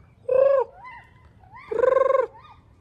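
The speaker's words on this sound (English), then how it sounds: "Oh, there's a chicken right there. He's coming." A chicken clucking close by outdoors, two drawn-out, loud nasal calls separated by a short pause, with quieter soft clucks between them.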